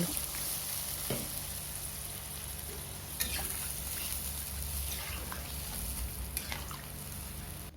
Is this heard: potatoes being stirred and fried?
yes